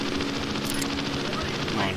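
Rapid bursts of defensive machine-gun fire from bombers in an aerial combat video game, a fast rattling crackle layered over a steady droning aircraft engine hum.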